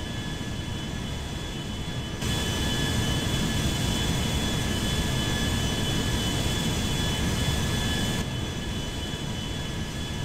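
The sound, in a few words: airplane engine flying, from a video game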